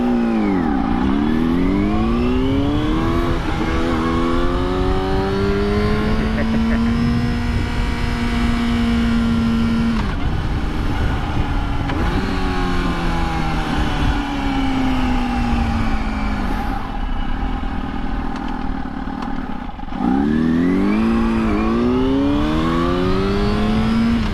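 A motorcycle engine revs repeatedly, rising and falling in loud sweeping pitch glides close to the microphone, with steady idle rumble between the revs.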